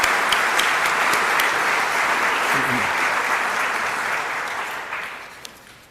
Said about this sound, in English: A round of applause, please, for all of them.